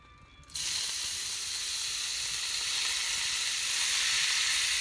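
Onions and peppers for gumbo hit a hot pan and burst into a loud, steady sizzle that holds for several seconds without letting up.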